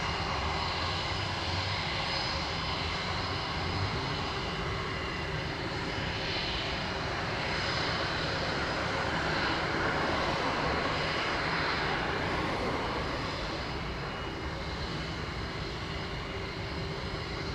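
Aircraft engines at Sangster International Airport in Montego Bay, Jamaica, a continuous broad roar with a steady whine that swells and eases slightly, heard at a distance with no talk.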